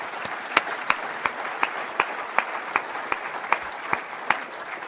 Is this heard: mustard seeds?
no